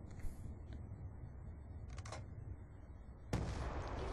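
A grenade lands and goes off in a Call of Duty Search and Destroy match on the Cargo map: a quiet stretch with faint clicks, then a sudden broadband blast that rumbles on to the end.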